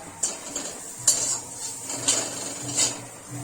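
Taro stems being stirred and fried in a pan, with a few distinct scrapes and clinks of a utensil against the metal at regular intervals over a low steady sizzle, close and fairly quiet.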